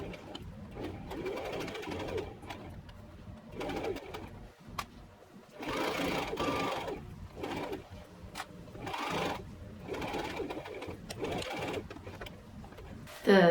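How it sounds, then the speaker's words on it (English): Sewing machine stitching the side seams of a cotton top, running in several uneven bursts with brief pauses, close and moderately loud. "I'm just going to clip the side seams and sew them up"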